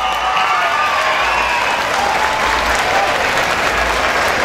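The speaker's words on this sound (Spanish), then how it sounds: "Que gritemos un aplauso para el maestro Gabriel García Márquez" A crowd gives sustained, even applause with a hint of cheering in tribute to the writer Gabriel García Márquez the day after his death. The clapping continues without letup throughout.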